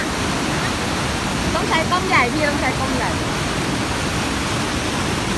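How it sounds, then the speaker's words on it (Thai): Snowmelt pours down a mountainside waterfall at Trollstigen, Norway, a steady broadband roar filling the scene while people talk nearby. "น้ำตก น้ำไหล น้ำลงจากเขาน้ำ น้ำมาหิมะ"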